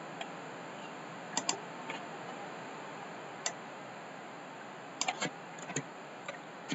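Scattered clicks of computer keyboard typing while working in Excel, faint and irregular with small bursts of keystrokes over a quiet hiss and a steady high tone.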